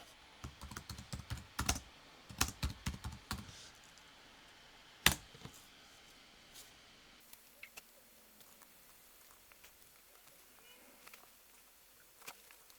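Keyboard typing as a prompt is entered into ChatGPT, with quick bursts of key clicks and a few sharper taps early on, then sparse, quieter keystrokes against a quiet room.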